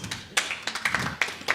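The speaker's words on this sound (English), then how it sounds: "Can we have a round of applause?" Scattered clapping breaks out at a student council meeting, a few sparse, uneven hand claps near the microphone rather than a full crowd ovation.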